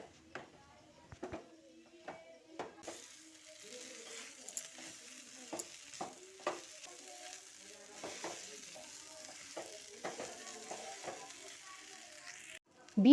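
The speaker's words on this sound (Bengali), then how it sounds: "আলুটা দিয়ে এখন সবজির সঙ্গে খুব ভালো করে মিশিয়ে নিচ্ছি" Grated boiled potato stirred into beetroot and carrot in a pan, giving a run of soft scraping, stirring strokes over a faint sizzle, close up and fairly quiet.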